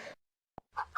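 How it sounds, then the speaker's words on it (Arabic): A chicken's clucks from an animal-sounds collection: a short call at the start, a faint click in the middle, then two louder clucks close together near the end, heard alone at close range. "دجاجة."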